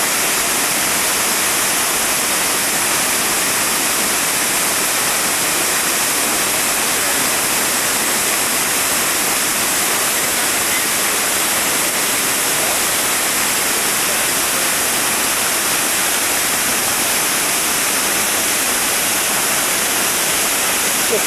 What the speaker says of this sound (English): here we are downstream from that giant fall, Devil's Throat